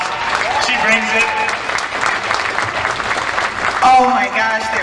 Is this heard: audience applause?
yes